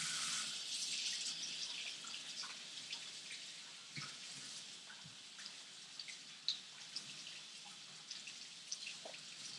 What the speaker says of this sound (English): I'm gonna wash my hands a little bit.